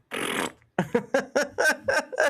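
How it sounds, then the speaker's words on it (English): A person farting, a long broad rasp followed by a series of short, evenly spaced bursts, close and fairly loud with no talking. "It's a 7-second video of just someone farting."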